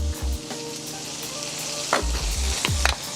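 Burger buns toasting face-down in mayo on a hot griddle, a steady dense sizzle throughout with a few light scrapes and taps, close up and without talking.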